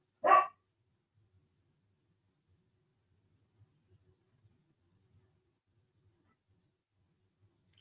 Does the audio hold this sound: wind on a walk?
no